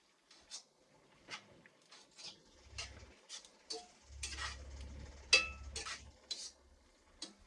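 A utensil stirs and breaks up sweet potato spaghetti in a pan, making quiet, irregular scraping strokes and soft clacks against the pan, with a faint low sizzle partway through.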